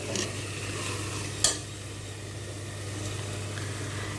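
Vegetables with turmeric fry in a pan with a soft steady sizzle, broken by a sharp spoon scrape against the metal partway through, with no talking.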